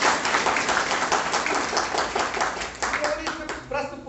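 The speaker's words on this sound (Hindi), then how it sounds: "एक जोरदार तालियां इनके लिए।" An audience claps at a college internship certificate ceremony, a dense round of hand claps that fades toward the end as a voice begins speaking over it.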